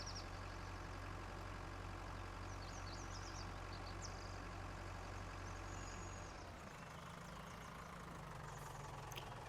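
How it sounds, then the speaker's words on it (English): A small tractor engine in Farming Simulator 19 labors up a hill, a steady low droning rumble that holds for most of the stretch, then drops in pitch and thins out near the end. "Poor little tractor. Just barely has enough power to get up this hill."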